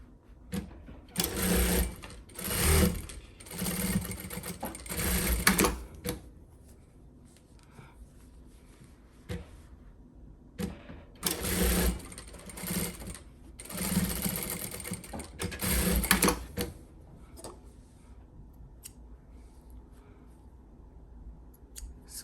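A sewing machine stitching a fabric storage bin made from Dollar Tree finds, two long bursts of rapid mechanical whirring separated by quieter pauses, close and clear.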